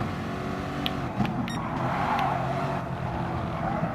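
Chevy and Dodge race cars in the Gran Turismo Sport video game, engines droning steadily in a close chase with faint tire and pass-by whooshes.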